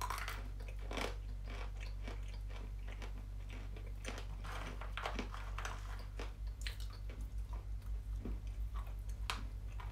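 Crunchy meringue pieces shaped like seashells being bitten and chewed close up, a steady run of crisp crunches and mouth sounds over a low constant hum, with no talking.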